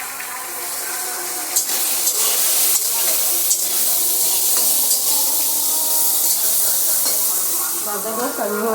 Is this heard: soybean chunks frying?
yes